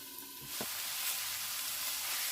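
Carrots frying in a pan under a lid, a soft continuous sizzle that swells slightly after a brief clink at the start and then holds steady.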